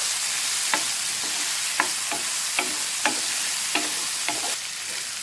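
Onion and tomato sautéing in a pan for a stir-fried pomfret dish in spicy ketchup: a steady sizzle with a spatula tapping and scraping about every half second, close and alone, with no voices.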